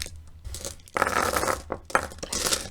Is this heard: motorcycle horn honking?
no